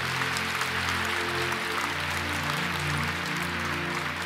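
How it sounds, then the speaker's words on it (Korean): Church congregation clapping in thanks after an evening sermon, a steady wash of applause held at an even level throughout, with a sustained low tone, likely organ or keyboard, playing underneath. "박수로 감사하겠습니다."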